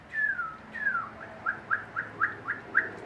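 Northern cardinal call notes, a few longer downslurred whistles followed by a steady series of short, sharp chips about every quarter second, clear and moderately near over a quiet background.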